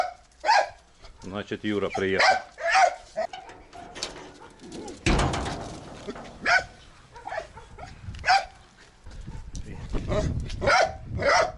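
A dog barks repeatedly at a country house, sharp barks spaced at irregular intervals, fairly close and loud, with someone speaking between and over them.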